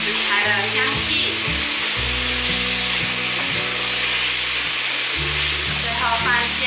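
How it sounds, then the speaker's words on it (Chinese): King oyster mushrooms stir-fried with seasoning in a pan give off a steady, close sizzle with stirring and scraping throughout, and a low tonal hum runs underneath. "调味料炒匀后，放入杏鲍菇。 翻炒，炒出食材的香气。"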